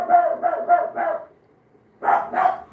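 A dog barks in a quick run of four loud, close barks, pauses, then barks twice more.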